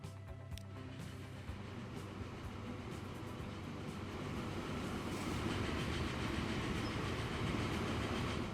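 Train running in the video game Transport Fever 2, a low continuous rolling rumble with faint clickety-clack that slowly grows louder, with no voices.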